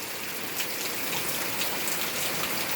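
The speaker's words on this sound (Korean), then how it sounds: "비가 와요. 비소리 녹음하려고 나왔어요" Steady rain falls outdoors, a dense, even hiss of drops on surfaces that continues unbroken throughout with no voices.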